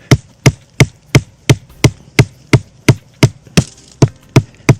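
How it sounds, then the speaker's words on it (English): A stake is hammered into the ground outdoors to anchor a wire snare trap, about fourteen sharp, evenly spaced blows ringing out loud and close in a steady rhythm. "So let's just go ahead and hammer this"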